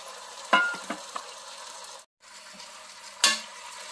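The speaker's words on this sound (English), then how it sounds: "so I'm going to add that whole meat" Whole pieces of pork dropped into a hot pan while cooking dinuguan, giving a few sharp sizzling bursts over a steady frying hiss, with a brief pause before another spatter.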